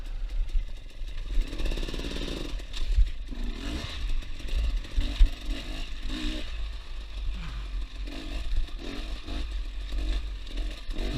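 A trail motorcycle picks its way over rocks on a steep track, the engine buzzing and surging irregularly with clattering and scraping from the tyres on stone, fairly loud and continuous.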